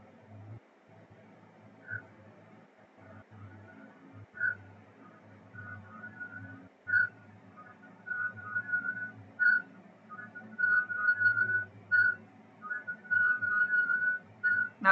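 Someone whistles a wandering, tune-like line in short phrases that grow more frequent and louder toward the end, heard over a low background hum.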